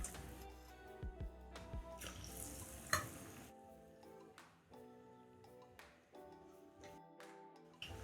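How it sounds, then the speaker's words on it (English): Potato bhajia frying in hot oil, a quiet, uneven sizzle with small pops and a few soft clicks as battered pieces cook, no talk. "You can also use your hands to put the potatoes in the oil."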